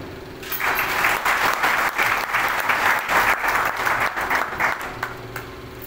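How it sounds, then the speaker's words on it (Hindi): A gathered audience breaks into applause, with a thick wash of many hands clapping that swells in after a brief pause and holds steady before easing slightly at the end. "इन सब लोगों के लिए पहले आप तालियां दें।"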